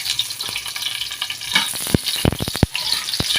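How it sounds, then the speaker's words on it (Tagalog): Onion sizzles loudly in a hot pan, a continuous close frying hiss broken by a few sharp pops and stirring knocks. "Siguradong mainit na yung kawali, guys. So lagyan natin ng kunting sibuyas."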